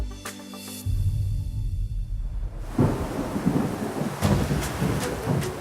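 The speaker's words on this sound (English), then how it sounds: "As the rain sets in," Rain sets in with heavy thunder rumbling, starting with a low steady rumble before a denser wash of rain and repeated loud thunder cracks builds up and persists, with no voices.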